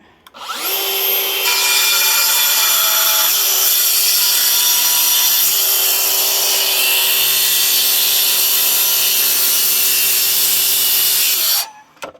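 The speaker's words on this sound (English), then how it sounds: "Because we've got a plunge saw, it just makes stuff like this extremely easy." A plunge saw cuts along a track through an oak butcher block worktop, making a loud, sustained high whine with a steady cutting roar for about eleven seconds. It spins up at the start and stops abruptly at the end.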